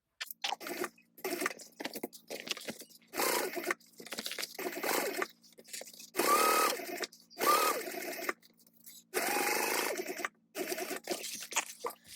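Close, fairly quiet bursts from a sewing machine top stitching the lining of a tote bag, starting and stopping repeatedly in short runs with brief gaps between them.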